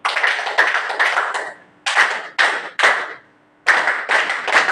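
An audience of workers claps in unison, several bursts of rhythmic, sharp, close clapping separated by short silent gaps.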